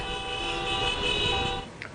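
A car horn gives a steady, sustained honk at a street protest against crimes targeting women, set over a low rumble of traffic and no clear talk.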